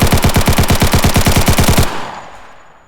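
An AK rifle fitted with attachments fires in the video game TOWN: a loud, rapid automatic burst of about twenty shots lasting under two seconds, followed by a fading echo tail.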